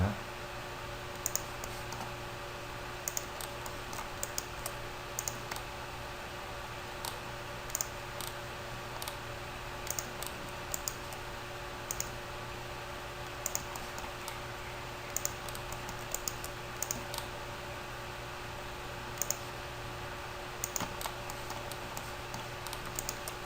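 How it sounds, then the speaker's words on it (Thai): Sparse computer mouse clicks, single and paired, sound at irregular intervals while the shift key is held for right-clicks in a drafting program, faint against a steady electrical hum, with no talking. "กดชิปค้างแล้วไปคลิกขวา"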